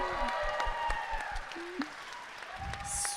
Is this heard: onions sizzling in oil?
no